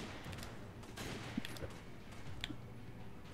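Gunfire in Resident Evil 5: a quiet run of scattered shots over low rumbling game noise, with a few sharper cracks standing out.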